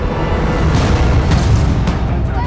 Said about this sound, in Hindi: अरे गोली चली, निकल यहाँ से।